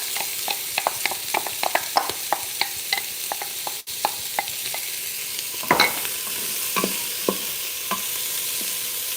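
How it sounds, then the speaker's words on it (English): Onions sauté in oil in a pot for beef stew, sizzling softly while a utensil stirs and scrapes in repeated clicks, one louder scrape midway. "Cooking our onions."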